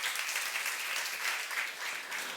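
A church youth congregation claps during a sermon, a steady wash of applause that sounds fairly distant and soft, with no speech over it.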